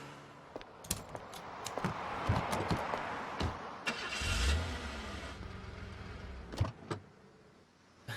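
A car engine cranks and catches amid clicks and mechanical clatter, then idles with a low rumble; brief sharp knocks punctuate the sound.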